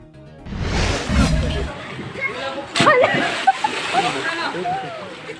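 Children bathe and play in a creek in barangay Makabalan, Cagayan de Oro City, splashing and sloshing the water in bursts, with a gurgling current and a clear, close splash partway through. A voice speaks over the scene.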